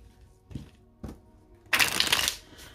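Tarot or oracle cards being cut and shuffled for a reading: two soft taps, then a bright riffling burst of about half a second, followed by a faint trailing flick.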